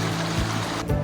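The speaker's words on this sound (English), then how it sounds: "Nice little waterfall over there." Small waterfall along a hiking trail at Wadi Kelt, a steady close rush of splashing water filling the short moment without speech.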